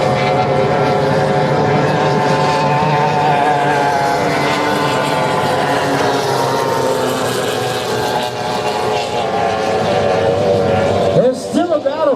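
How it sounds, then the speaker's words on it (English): An F2 racing powerboat motor roars steadily at full throttle during a riverfront race heat, a loud continuous droning whine that holds its pitch for several seconds before a brief wavering at the end. "it sounds like the motor's running pretty good"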